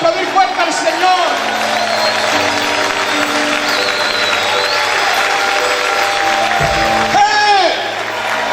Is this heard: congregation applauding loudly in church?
yes